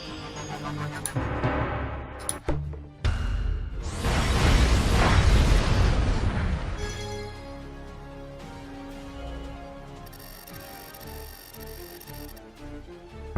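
Ships blowing up in the space strategy game Space Tyrant, a sharp crack followed by a long roaring explosion burst that fades into tinkling game tones and a steady electronic hum.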